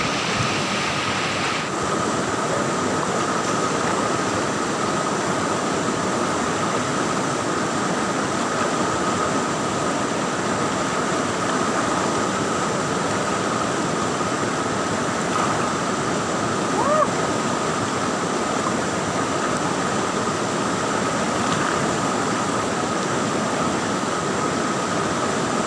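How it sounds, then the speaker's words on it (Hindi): A fast-flowing river in Ladakh rushes in a loud, unbroken roar of churning water, constant and close for the whole stretch, with faint voices now and then beneath it. "स्पीडेस्ट नदी है"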